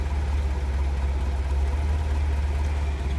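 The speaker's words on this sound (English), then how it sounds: "We'll just keep it in low here. All low has to do is just idle." An International Scout 80 engine idles in low gear, giving off a steady, loud, low rumble close by with no speech.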